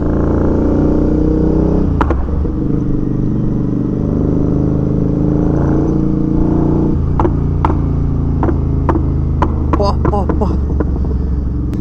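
A Royal Enfield Interceptor 650 motorcycle with an altered exhaust rides along a road, its engine droning loudly and steadily throughout. Sharp pops and crackles from the exhaust come in bursts, growing denser toward the end.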